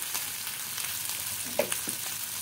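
Onion with ginger-garlic paste and cumin powder frying in a pan, giving a steady, close sizzle with a couple of soft stirring scrapes near the end.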